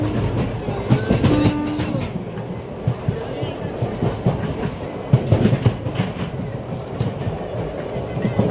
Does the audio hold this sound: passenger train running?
yes